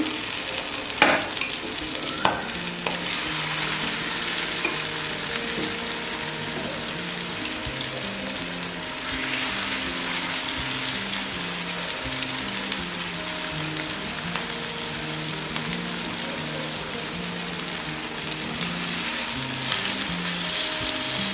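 Milkfish pieces fry steadily in coconut oil, a continuous loud sizzle with occasional clatter of stirring and a soft ringing note running underneath, no voices.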